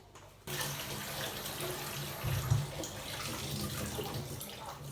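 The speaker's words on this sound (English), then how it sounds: "I will just wash the rice now and put it inside the pot." Rice being washed under running water with a small filter in a kitchen, a steady close rush of tap water that starts abruptly and continues, with a brief louder splash midway.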